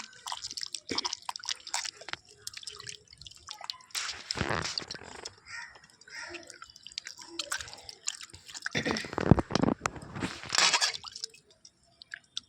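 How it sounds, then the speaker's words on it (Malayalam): Squid being cleaned out inside by hand, with fingers or a knife tip: soft wet squishes and drippy squelches come in scattered bursts, with louder handling noise in clusters around the middle and near the end, close up and without talk. "ഇനി നമുക്ക് അതിൻ്റെ ഉള്ളിൽ കൈ വെച്ചിട്ടോ ഒരു വിരൽ വെച്ചിട്ടോ അല്ലെങ്കിൽ കത്തിയുടെ തുമ്പ് ഭാഗം വെച്ചിട്ടോ നന്നായിട്ട് ഉള്ളിൽ ക്ലീൻ ചെയ്തെടുക്കാം"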